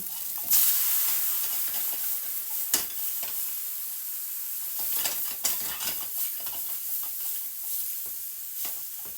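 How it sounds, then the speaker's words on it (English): A pan of browned roux being deglazed with a shot of white vinegar, a loud burst of sizzling steam that settles into a steady crackling hiss, with a few scraping stirs. "I'm going to deglaze our pan."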